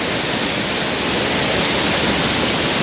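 Rain-swollen river water rushes in the Konkan monsoon, a loud, unbroken broadband roar filling the whole stretch with no voices.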